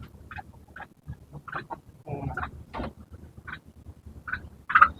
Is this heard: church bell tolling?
no